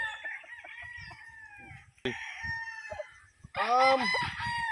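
A sweater gray gamefowl rooster crows loudly and close by, with several long strained calls in a row and a clear, full crow at the end.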